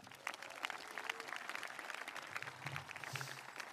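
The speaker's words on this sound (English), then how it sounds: "Let's give everyone one more round of applause" Audience applause at the Pequannock Township High School Class of 2026 graduation ceremony, a steady crowd clapping that fills the space for a few seconds without pause.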